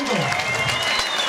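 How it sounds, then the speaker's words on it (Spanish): A crowd at an outdoor Sunday political rally in Colombia applauds in a dense, continuous burst of clapping, loud and close, for party candidates. "Un aplauso para ellos."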